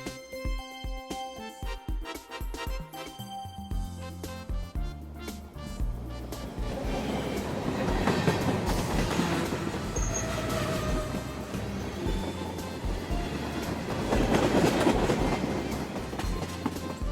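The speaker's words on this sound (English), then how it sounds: "Tram." A city tram rolls along its rails with rhythmic clicking wheel joints and metallic squealing, starting with sharp clanks and building into a continuous rumbling run that swells louder toward the end.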